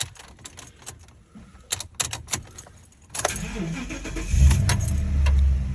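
A 2007 Ford Crown Victoria with a startup rattle being started: keys jangle and click in the ignition, then the engine cranks and catches, settling into a loud, close idle from inside the car.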